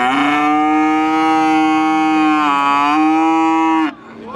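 Close, loud cow moo at the Pon animal market in Pati, one long drawn-out low bellow that holds steady for nearly four seconds before cutting off into quiet background.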